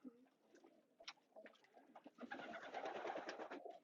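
Pigeons or doves coo in a soft, repeated pattern at close range, with a fuller burst of cooing and fluttery calls building over the last couple of seconds.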